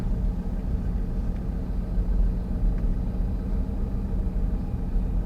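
A Mitsubishi Pajero creeps down a steep slope without braking, giving a steady low engine and tyre rumble heard from inside the cabin with no speech, constant in level throughout.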